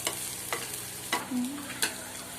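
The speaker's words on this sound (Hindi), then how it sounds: "हमें शिमला मिर्च को थोड़ी देर तक ऐसे घुमाना है जिससे हमारे शिमला मिर्च का कच्चापन दूर हो जाए" Bell pepper sizzles in a pan while a spoon scrapes through it in about four distinct strokes, a soft steady frying hiss underneath, close and quiet with no talk.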